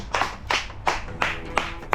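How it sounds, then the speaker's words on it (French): A few hand claps in a slow, even rhythm, about six distinct claps close by over roughly two seconds. "tonnerre d'applaudissements"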